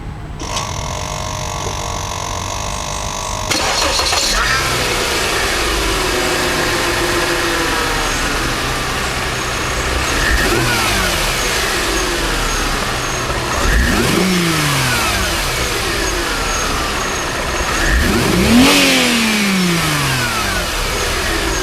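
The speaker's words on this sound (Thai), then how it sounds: "มาฟังเสียงเครื่องยนต์กัน" A Mercedes-Benz CLS350 engine cranks and catches, then idles before revving up several times in repeated rising and falling surges, loud and close throughout.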